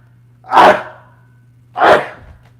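Two sharp, close sneezes from one person, spaced about a second apart, each a loud burst fading into breath, over a low steady hum.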